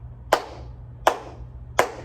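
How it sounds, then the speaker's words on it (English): Three single hand claps, sharp and bright, evenly spaced about three-quarters of a second apart against a quiet background. "What about when we clap?"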